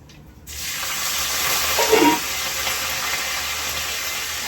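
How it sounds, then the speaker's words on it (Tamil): Mustard seeds, dried chillies and curry leaves hit hot oil while tempering for an ivy gourd dish, setting off a sudden loud hiss that peaks briefly, then settles into a constant close sizzle. "கோவக்காய் செய்யறதுக்கு வந்து கடுகு போட்டுக்கிறேன் கடுகு போட்டாச்சு கூட வந்து காஞ்ச மிளகாவும் கருவேப்பிலையும்"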